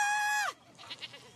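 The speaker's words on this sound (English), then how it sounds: "Oh, to an animal sanctuary to pet goats." A goat at an animal sanctuary gives one loud, drawn-out bleat that cuts off abruptly, followed by faint softer sounds.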